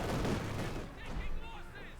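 Gunfire and mortar explosions from a Company of Heroes 2 battle as a mortar barrage falls on an MG42 machine-gun crew: loud booms and rattling shots at first, then quieter with faint background talk.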